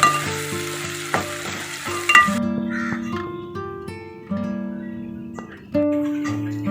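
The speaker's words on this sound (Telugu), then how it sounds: "అల్లం వెల్లుల్లి పేస్ట్ వేగింది" Two spoons of ginger garlic paste sizzle and fry in a pan for mutton mango curry, a steady hiss broken by a few sharp clatters of stirring, with an intermittent tonal hum running underneath.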